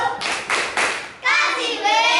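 Children at an elementary school do the tepuk wow clapping chant, with several loud group claps in rhythm followed by excited shouting voices, close and lively.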